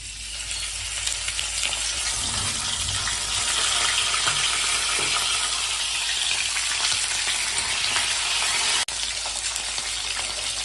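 A hilsa fish head fries in mustard oil with black cumin. It gives a loud, steady, close-up sizzle that runs without a break, with a brief knock near the end.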